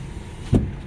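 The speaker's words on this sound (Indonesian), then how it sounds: "Terus untuk power window-nya ini sebelah belakang." Rear power window motor on a 2015 Honda HR-V 1.5 CVT running once, a brief close whir standing out over a quiet cabin, with no talk.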